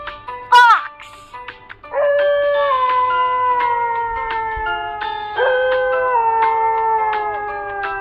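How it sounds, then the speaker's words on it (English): A fox gives a sharp yelp followed by a long, wavering howl-like cry that rises and falls, sustained and close for several seconds. "Fox."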